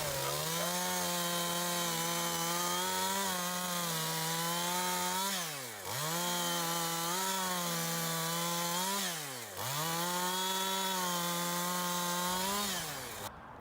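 A chainsaw cuts apple wood chunks for a smoker outdoors, running loud and steady with its pitch dipping twice as the chain bites into the wood, then winding back up.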